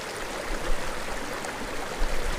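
A continuous rushing, splashing flow of filtered water squeezed into a bottle, close and fairly loud, steady throughout with slight surges.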